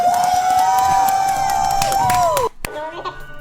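A cinema audience at the Minecraft movie erupts during the chicken jockey scene, with loud close crowd cheering, whooping and shouts sustained for a couple of seconds before cutting off abruptly into quieter murmuring.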